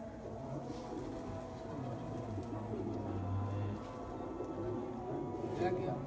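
Racing pigeons at a Punjab one-day championship flight coo softly and steadily in the background while people talk nearby.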